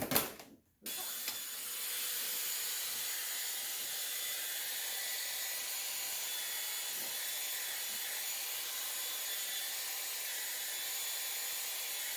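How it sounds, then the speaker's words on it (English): After a brief clatter and pause, a hair dryer switches on to dry a watercolor layer, blowing with a steady, even whoosh close by, continuing without change. "Now, when this dries, you can use a hairdryer."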